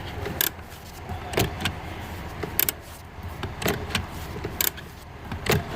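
A Mercedes parking brake pedal being pumped several times after a cable was treated with penetrating oil, producing a series of sharp clicks and mechanical clunks spaced roughly a second apart, close and moderately loud.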